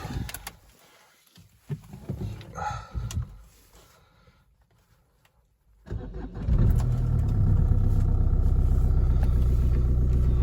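An Opel Combo's engine cranks and catches after a few quiet shuffling sounds, then settles into a loud, steady idle heard close by with no talking.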